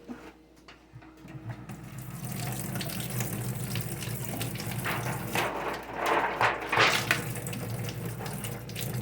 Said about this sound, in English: Always wash out your hands.